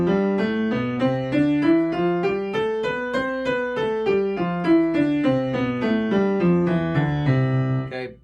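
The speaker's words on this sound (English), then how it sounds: "You're going to play one hand loud and the other hand soft." Piano playing a steady run of notes, the upper melody bright and prominent while the lower accompaniment stays soft underneath; no voices.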